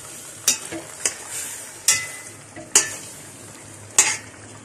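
Lamb head meat fries in a pot while a utensil stirs it, with a hiss of sizzling and a handful of sharp metallic scrapes and knocks at uneven intervals.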